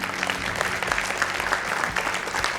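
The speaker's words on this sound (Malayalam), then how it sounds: "ഇനി ഞങ്ങളെല്ലാം കൂടെ അതിൻ്റെ ശക്തി കൈയടിക്കാം." An awards ceremony audience applauds together, a dense, sustained clatter of many hands clapping at moderate distance with a faint crowd murmur.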